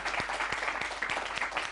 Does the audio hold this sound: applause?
yes